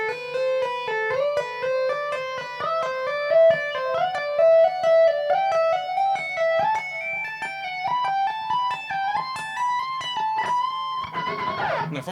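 An electric guitar runs a legato exercise through positions of a scale, a smooth flowing stream of hammered and pulled single notes climbing steadily, ending in a noisy scrape.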